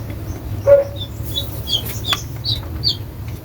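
Young chicks peep in short, high, scattered calls, close by, over a low steady hum.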